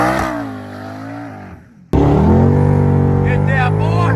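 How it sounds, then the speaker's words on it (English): A twin-turbo Mustang engine revs hard and loud nearby, briefly dropping off before surging back into a sustained roaring rev, with voices talking over it. "Twin Turbo Mustang."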